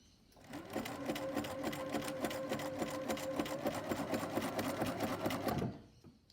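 A sewing machine runs steadily for several seconds, sewing a zigzag seam allowance on a patchwork bag, a fast rhythmic stitching hum that starts and stops cleanly, with no talking.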